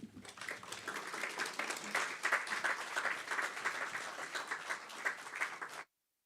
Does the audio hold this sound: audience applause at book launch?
yes